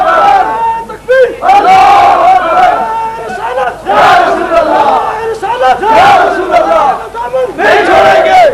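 A large crowd at the Ajmer Sharif Dargah in Garib Nawaz chants takbir, the shouts rising in loud, repeated, rhythmic waves roughly every two seconds, many voices together and close.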